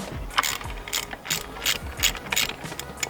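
Ratchet wrench clicking as it loosens engine bolts on a turbocharged MK3 VR6 during a teardown; repeated bursts of close, crisp pawl ticking with short pauses between strokes.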